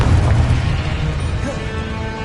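A Confringo blasting spell explodes in Hogwarts Legacy with a loud, heavy boom and a rumbling tail that fades slowly under continuous game sound.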